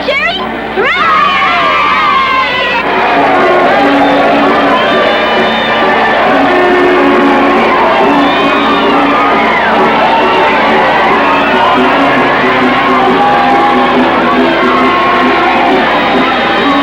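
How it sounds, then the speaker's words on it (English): A large crowd cheers and shouts continuously in a loud, sustained roar of whoops and voices, with a few individual calls rising above the mass. "Do you hear the cheering?"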